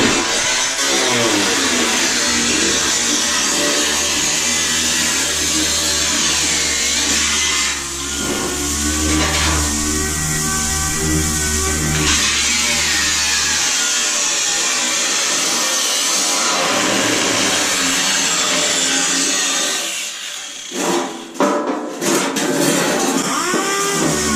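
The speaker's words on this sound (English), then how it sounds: "Joe here is cutting out the piece for the floorboard" A power tool cuts out a floorboard piece for a replacement floor pan in cramped car bodywork, grinding and whining loudly and steadily for about twenty seconds, then sputtering in short bursts near the end.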